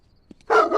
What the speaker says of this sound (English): Ah, scary dog bark.